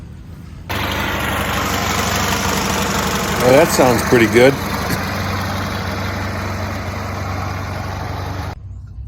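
A friend's tractor engine idling steadily and close by, a low even drone running the whole time with a brief rise in the middle while someone talks over it.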